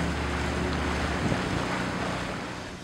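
Standing in a flat-bottomed punt on the Clyde River early on a Sunday morning, steady wind buffets the microphone over a constant rush of water, loud and unbroken throughout with no talking.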